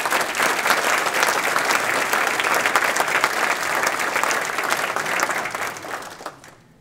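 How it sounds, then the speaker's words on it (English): A hall of fame induction ceremony audience applauds softball award winners with loud, steady clapping that holds for several seconds and then fades out at the end. "let's give them a round of applause."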